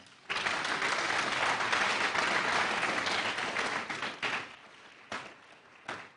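An audience at an e-learning event breaks into loud, sustained applause that thins out into a few scattered claps near the end.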